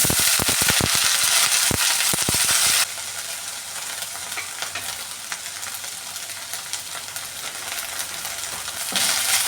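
Mustard seeds pop and crackle sharply in hot oil, then shallots and dried red chillies go in and the sound settles into a loud, dense sizzle that swells again near the end, for a Kerala-style drumstick leaves curry.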